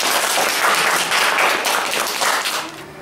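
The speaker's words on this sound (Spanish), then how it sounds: "Le damos un aplauso a Sandra." Children clap loudly together for a storyteller at a school reading, a brisk, dense burst of many small hands that stays strong and then begins to thin out near the end.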